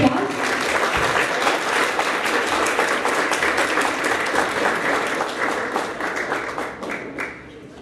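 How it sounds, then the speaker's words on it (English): An audience applauds steadily for several seconds, a dense wash of clapping that fades out at the end. "If we could all give him a warm round of applause."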